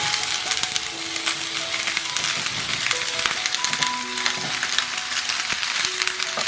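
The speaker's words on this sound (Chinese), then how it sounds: "再来准备一个砂锅，加少许油，把配菜倒进来炒香。" Side vegetables sizzle and fry in a little oil in a clay pot, a steady close crackling hiss with occasional stirring scrapes and clinks.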